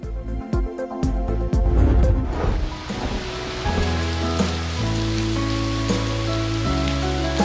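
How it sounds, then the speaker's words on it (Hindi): Torrential rain over parts of Islamabad and Rawalpindi: a dense, steady downpour hissing on surfaces throughout, mixed with a sustained musical backdrop and no talking. "इस्लामाबाद और रावलपिंडी के मुख्तलिफ इलाकों में मूसलाधार बारिश।"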